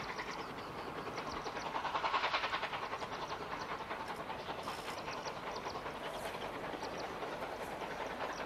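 A steam-hauled train running on rails in Africa, giving a continuous rolling rumble with faint rhythmic clatter. It swells slightly early on, then holds steady at a moderate distance.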